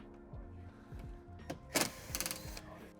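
Screws come out of the plastic side panel of an Evolution D5 Ranger 4 golf cart, heard as several short whirring bursts that wind down, followed by a few sharp clicks and rattles, close by and with no talking.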